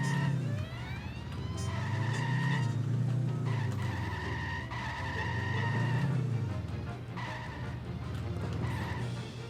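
A car drives hard in The Simpsons Hit & Run, engine roaring loud and steady while tires skid and squeal repeatedly through several long slides.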